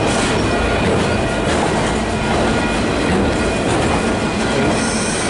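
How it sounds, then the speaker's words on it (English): A long intermodal freight train with auto racks and mixed cars rolls steadily past at a rail crossroads on a windy day, a loud continuous rumble with wheel clatter and some squeal filling the whole stretch. "That much mixed freight, auto racks and some mixed cars. Overall it's intermodal."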